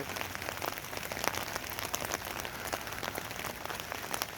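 Steady rain falls in Port Coquitlam near Vancouver, Canada, a constant patter of drops on surfaces with scattered sharper splashes, fairly quiet and unbroken, with no voices.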